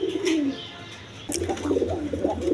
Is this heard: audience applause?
no